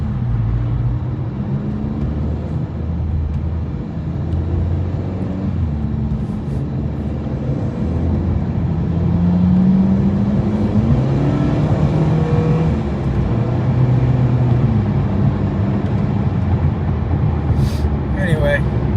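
Cars pass steadily through traffic, a loud continuous engine and road drone rising and falling as vehicles go by, with a person talking over the noise.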